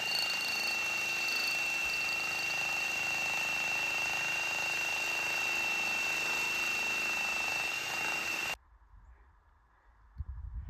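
Hammer drill bit driving 5/8 rebar feed pins, a loud, steady close-up hammering drone with a high whine that runs continuously, then cuts off abruptly near the end, leaving quiet rustling.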